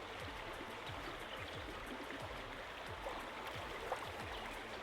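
A clear, cold stream flowing steadily outdoors, a soft continuous babble and rush of water at moderate distance, alone with no voices.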